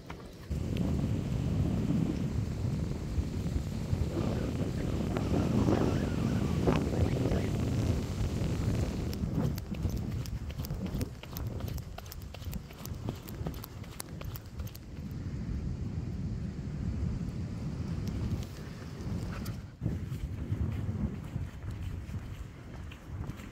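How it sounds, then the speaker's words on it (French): Gusty wind buffets the microphone in a continuous low rumble, loud and close, with faint rustling throughout. "Certes, il fait froid. Certes, il y a du vent."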